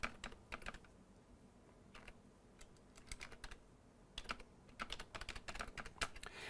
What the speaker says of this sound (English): So I'm going to type in something else here.